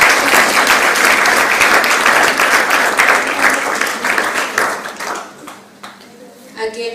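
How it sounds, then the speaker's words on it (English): Loud round of applause from a university student audience at a live address, dense clapping sustained for several seconds before thinning out and fading near the end, with a voice briefly heard underneath. "can I get a round of applause?"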